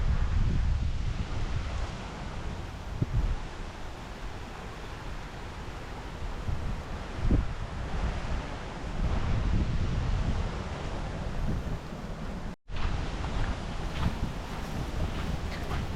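Wind blows across a beach on Blue Beach island, a steady, loud, close rumble of wind buffeting the microphone, with a wash of surf underneath, continuous throughout with a brief dropout near the end.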